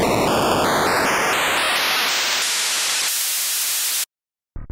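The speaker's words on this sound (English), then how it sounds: "To activate noise mode, simply toggle the noise button on." Super Nintendo noise mode in the Chipsynth SFC synthesizer: loud hissing static that rises in stepped pitch for about four seconds, cuts to silence, then returns briefly at the end.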